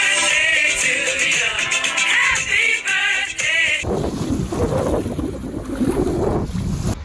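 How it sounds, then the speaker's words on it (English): Steady wind rushes and waves wash against a sailboat under sail, with a brief stretch of musical tones at the start before the open-water noise takes over. "all you can hear are the wind and the waves"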